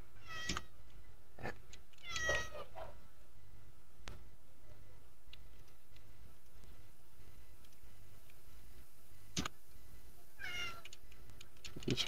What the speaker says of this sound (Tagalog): Oh no, nandito yung pusa ko.